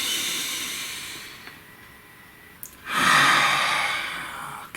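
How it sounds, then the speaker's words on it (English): A long, deep breath drawn in and let out close to the mic, a soft airy inhale followed by a louder, hissing exhale, with no speech over it. "Take a nice deep breath."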